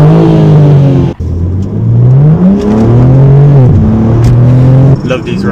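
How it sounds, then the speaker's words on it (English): A BMW G82 M4 Competition in Sport Plus mode revs and pulls on an open road, the engine note rising and falling loudly through several surges with a brief drop in between. "let me give you a couple of revs now"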